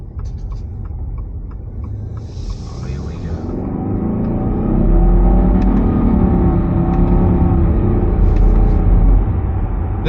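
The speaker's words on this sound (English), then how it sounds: "let's go find out what the acceleration's like from the Outback Turbo" Subaru Outback XT Turbo with CVT accelerating from inside the cabin, a steady engine and road rumble building louder over several seconds without any talk.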